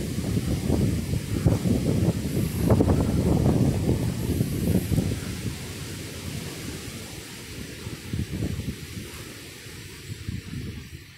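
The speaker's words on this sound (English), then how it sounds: "That was a gust." Strong wind gust roaring through trees outdoors, a broad, rumbling low rush with buffeting microphone wind noise, loudest in the first half and easing off toward the end.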